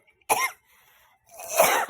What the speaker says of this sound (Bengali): এত রং দিয়েছে পুরো কাশি হয়ে যাচ্ছে